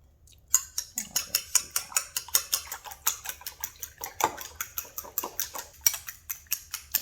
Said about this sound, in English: Now we're going to beat that together.